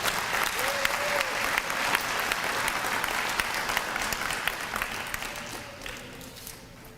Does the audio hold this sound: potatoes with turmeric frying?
no